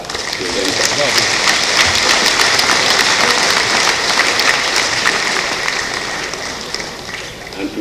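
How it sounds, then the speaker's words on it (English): Conference audience applauds a presenter after a plenary lead paper at an accountants' gathering, loud dense clapping from a large hall that sustains for several seconds and then thins out toward the end. "I would like you to give a hand of applause to our presenter."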